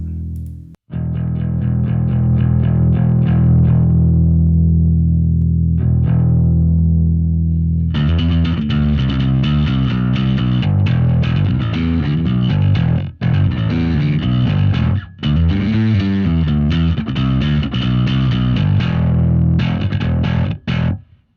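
A bass guitar plays through a Two Notes Torpedo C.A.B. M power amp simulation with a distorted, driven tone, sustained notes then a busier riff with brief pauses, loud and close.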